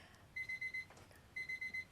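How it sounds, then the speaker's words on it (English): Electronic alarm clock going off during a meditation talk, two bursts of four rapid high beeps each, fairly faint, with a short pause between the groups and no talking over it. "Okay, we have alarm."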